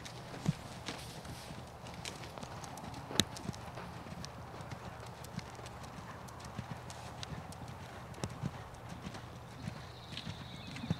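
A horse's hooves clip-clop at a steady walking rhythm while being ridden in a farm arena, moderately close, with an occasional faint whinny and soft background noise.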